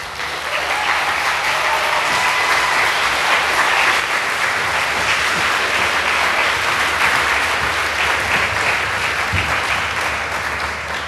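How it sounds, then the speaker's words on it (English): An audience at a talk on resisting surveillance breaks into long, loud, steady applause for the speakers coming up, with a rumbling background hum beneath the clapping. "Please, an applause."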